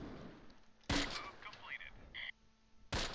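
Gunfire in the Close Combat war game: two loud, abrupt cracks about two seconds apart, separated by faint game effects and a short voice murmur.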